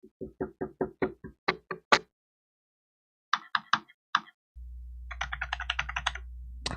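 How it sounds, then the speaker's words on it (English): Close-miked computer keyboard and mouse tapped in crisp, rapid bursts of percussive clicks, pausing between runs, then a faster cluster of light taps over a steady low hum. "like when I tap on the keyboard or use my mouse"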